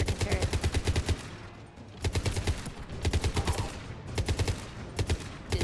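Rapid bursts of mounted turret gunfire in the video game Mass Effect 3, loud and close, firing in several long rattling volleys separated by short pauses.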